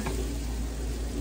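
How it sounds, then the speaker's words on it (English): Zucchini and onions fry in a hot pan, giving a brief, steady, close sizzle with soft crackling and no voices. "And I'm just adding the zucchini and onions to the pan."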